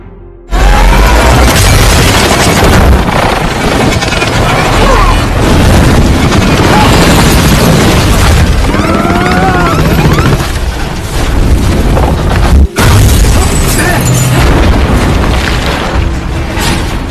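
A helicopter crashing into a villain in a box-office action film, with loud, sustained booming explosions and crashing debris filling the scene, a brief cut near the end, and a voice faintly present.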